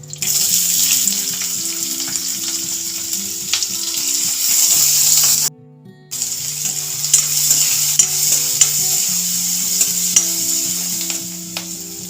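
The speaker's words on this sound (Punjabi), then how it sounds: "ਹੁਣ ਆਪਾਂ ਇਹਦੇ ਵਿੱਚ ਪਾਵਾਂਗੇ ਬਰੀਕ ਕੱਟਿਆ ਹੋਇਆ ਪਿਆਜ਼" Finely chopped onion frying in hot oil in a pan for macaroni pasta, a loud continuous sizzle with scraping stirs throughout, broken by a brief silence midway, while soft music plays underneath.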